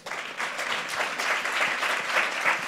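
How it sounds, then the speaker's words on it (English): An audience at a women's tech conference applauds a speaker, steady dense clapping throughout, moderately loud and filling the room. "Give her a round of applause."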